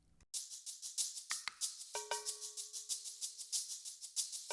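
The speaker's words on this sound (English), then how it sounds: "And then the Shakers one, soloed," Soloed shaker loop, a steady rhythmic shuffle of bright, hissy pulses repeating quickly, with a sustained tone joining partway through.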